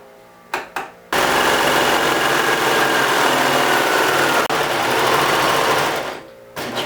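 Sewing machine running a tight, close-set stitch on a ruffle diaper cover: a couple of short starts, then a loud, steady whirring stitch run of about five seconds that stops abruptly.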